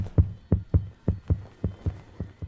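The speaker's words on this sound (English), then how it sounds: "Why is my heart beating?" A heartbeat from the video game Prognostic thumps nine times in a steady rhythm, each beat a deep, muffled, close pulse, with no other sound between beats.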